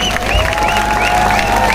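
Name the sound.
applause welcoming a party leader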